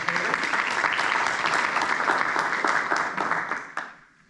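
An audience at a school board candidate forum breaks into steady applause, a dense crowd of clapping hands that holds strong for several seconds and then quickly fades out.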